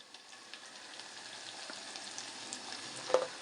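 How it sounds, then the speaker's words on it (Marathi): Green chili frying with reddening garlic in oil on a lowered flame, for a Maharashtrian yogurt kadhi: a faint, steady crackling sizzle with small scattered pops and no voices. "लसूण थोडा लाल होत आला की आपण त्याच्यामध्ये मिरची टाकूया आबोडदबोड केलेली गॅस थोडा बारीक करते मी मिरची चांगली परतू देते"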